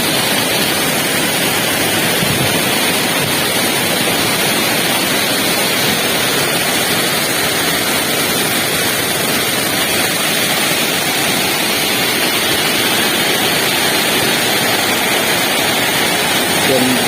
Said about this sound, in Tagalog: Ang sarap ng falls.